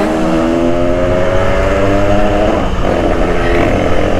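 A moped engine screams at full throttle, held flat out in high gear with a steady, loud, buzzing two-stroke whine that wavers slightly in pitch, close and alone with no talk.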